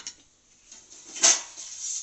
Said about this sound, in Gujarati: ભાભીની વાસણ ધોવામાં હેલ્પ કરે છે